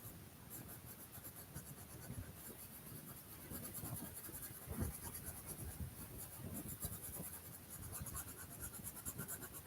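Colored pencils scratch and rub steadily across paper in a Halloween coloring book, a continuous close scratchy texture with small strokes and no talk.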